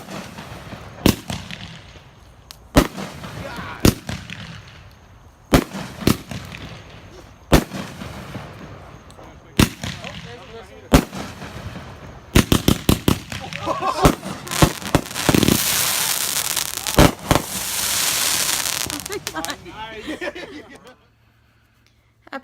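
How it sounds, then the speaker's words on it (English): Fireworks set off at a house on the Fourth of July pop and bang in a series of sharp, loud blasts, with crackling bursts building toward the end and voices and laughter in between. "That was us setting off fireworks"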